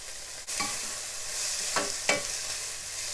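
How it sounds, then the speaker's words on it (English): Onions frying with salt and green chili for a green bean stir fry, a steady broadband sizzle with a few sharp stirring scrapes and clicks of the spoon against the pan, no voices. "add some salt, green chili. Fry this for 1 minute."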